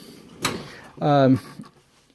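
A drawer in an auto repair shop's tool chest slides open with a short rolling rumble after a sharp knock, heard close and brief.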